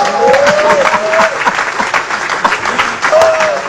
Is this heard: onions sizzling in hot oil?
no